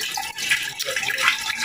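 Water from a water pump pours into a homemade filter, a continuous gushing, splashing flow with uneven surges, close and moderately loud, no voices.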